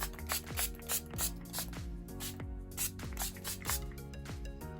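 A Revolution Matte Fix setting spray bottle is pumped repeatedly in a quick, regular rhythm, each press giving a close mechanical click followed by a short hissing burst of mist.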